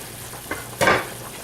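Chicken sizzles in a pan while being cooked for chicken roscato fettuccine: two brief bursts of frying hiss and stirring, the second louder, over quiet background, with no talking.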